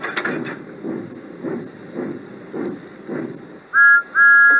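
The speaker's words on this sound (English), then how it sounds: "Then he heard a whistle." A steam locomotive chugs in a steady rhythm, then a loud two-part steam train whistle blows near the end.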